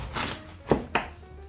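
A knife cutting a red cabbage into quarters on a board: a soft slice followed by two quick, sharp chopping thunks close by, with no voices.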